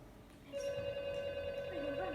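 A telephone rings with a steady electronic tone in a room, moderately loud and sustained, while soft voices murmur underneath.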